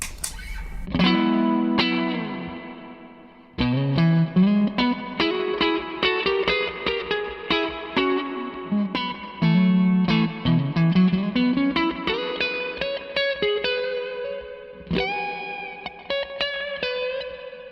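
Guitar through a Zander Circuitry Exosphere pedal with its second, larger-room reverb engaged, playing a run of plucked notes and chords that ring into one another, sustaining loud and close with a washy tail between phrases.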